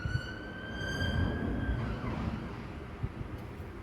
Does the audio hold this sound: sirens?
yes